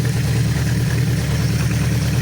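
A 1973 Honda CB500 motorcycle engine runs steadily at idle, a loud, continuous mid-pitched throb with even mechanical clatter, close by and without talk.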